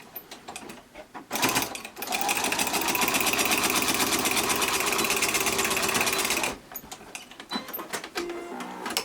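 A sewing machine back stitches a folded cloth face mask, a loud, fast, even mechanical whir lasting several seconds, bracketed by softer clicks and handling before and after.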